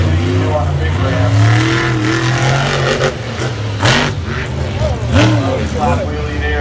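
A 1,500-horsepower racing machine revs loudly on a ramp at an event, its engine roaring and rising in pitch in several bursts, with a voice commentating over it.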